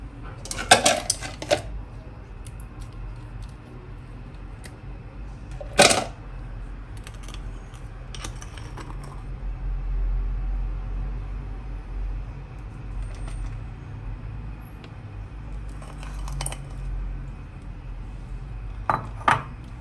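Glassware and ice clink and knock as iced coffee is prepared in a glass, a few sharp close clinks spread over a quiet kitchen background with low hum.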